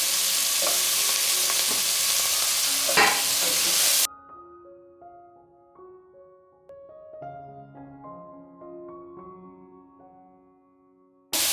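Mushrooms and vegetables for a clear soup sizzle and hiss loudly in a pan with scraping stirs for about four seconds, then the frying cuts off abruptly and soft tonal music follows.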